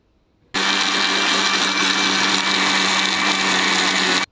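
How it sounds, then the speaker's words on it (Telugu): A mixer grinder blends onions, green chillies, tomatoes and masala for a chicken curry. After a half-second of quiet it starts up with a loud, steady whirring roar that holds evenly for nearly four seconds, then cuts off. "ఆనియన్స్, పచ్చిమిర్చి, టమాటో అన్నీ వేసుకొని మిక్సీ పట్టుకోవాలండి"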